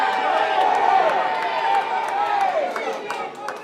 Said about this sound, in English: there you hear the crowd getting behind Big Flexy himself